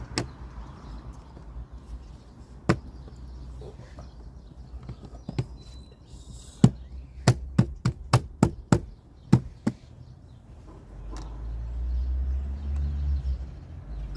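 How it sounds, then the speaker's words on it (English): A car's interior side panel on a VW Polo 6R is pushed back into place, producing a rapid run of sharp plastic clip snaps and knocks. Quieter handling noises come before and after it. "I'm gonna grab the side panel, pop this back on."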